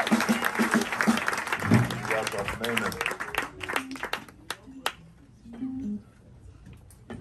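Audience applause and clapping at a live jazz concert of an Afro-Latin band, a dense burst of hand claps that thins out and fades over several seconds, with a voice speaking over it.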